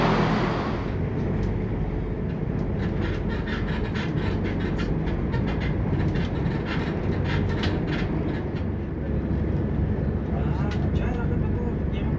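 A cross-country passenger train rumbles along the rails near Stansted Airport in a constant, heavy roar, heard from inside with rhythmic clicks and rattles; a voice speaks briefly over it.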